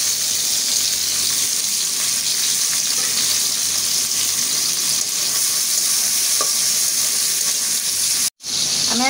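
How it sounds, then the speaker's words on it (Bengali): Onion and tomato fry in a pan with a loud, steady sizzle and light stirring sounds, close up, and a brief dropout near the end. "পেঁয়াজটা আমি হালকাই ভাজবো, বেশি লাল লাল করবো না। আমি এখন টমেটোটা দিয়ে দিলাম।"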